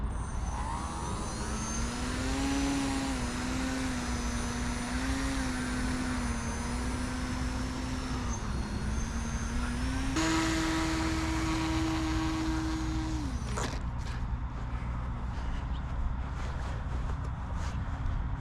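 An RC model airplane's electric motor whines steadily and fairly loud, holding one pitch that wavers a little. It then steps up higher before cutting off abruptly, leaving faint rustling and clicks.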